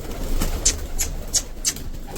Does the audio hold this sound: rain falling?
no